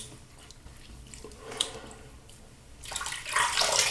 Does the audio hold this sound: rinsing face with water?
yes